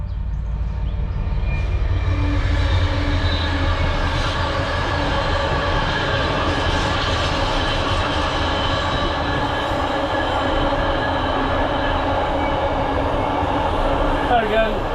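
A train rumbles past near a narrowboat moored on a canal, loud and continuous with rattling wheels and some squeal, a low engine drone underneath for the whole stretch.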